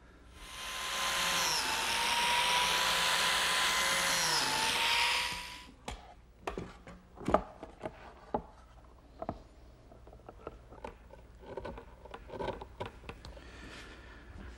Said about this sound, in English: Now I'll cut some biscuit slots and glue it up.